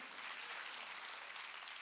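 A church congregation claps during a Sunday worship service, a brief, even wash of many hands clapping together at a moderate distance, with no voices standing out.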